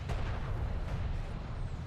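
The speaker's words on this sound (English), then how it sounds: "Light attack vehicle under fire." Weapons fire striking a light attack vehicle in a sci-fi strategy game, a brief, steady, heavy rumbling barrage of booming shots with no talk.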